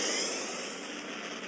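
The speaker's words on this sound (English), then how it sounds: "Commencing warp." A spaceship's warp engine in the sci-fi video game Second Galaxy roars as a broad, steady jet-like rush that starts loud and eases slightly, with no talk over it.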